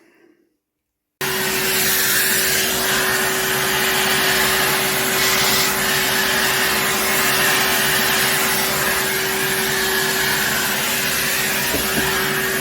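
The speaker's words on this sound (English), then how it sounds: "Let me just get Henry and hoover that lot up." After a brief silent moment a Henry vacuum cleaner starts up and runs steadily, a loud continuous droning whine as it hoovers up loose polystyrene bits from a model railway table.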